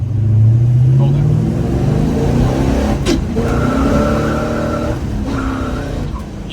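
A 1964 Chevrolet Chevelle Malibu accelerates and shifts up into third gear. The engine drone is loud and near, and someone talks over it for most of the clip.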